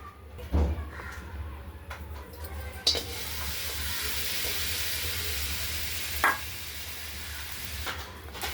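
Crushed jaggery is stirred into melted ghee in a pan over a low flame, a soft continuous sizzle with scraping stirs and occasional clunks of a spoon against the pan.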